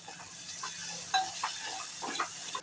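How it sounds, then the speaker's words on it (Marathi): Green chillies and crushed garlic frying in hot oil, a steady low sizzle with a few soft stirring scrapes and light clinks of a utensil against the pan. "तेल छान गरम झालं की त्याच्यामध्ये टाकणार आहोत 2 बारीक चिरलेल्या हिरव्या मिरच्या, ठेचलेलं लसूण व्यवस्थित भाजून घ्यायचं आहे तेलामध्ये."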